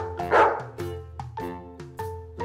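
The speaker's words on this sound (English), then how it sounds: "D, D, D is for dog." A dog barks over a light musical backing in a children's alphabet song, several short, close woofs spaced in a loose rhythm, the first bark the loudest.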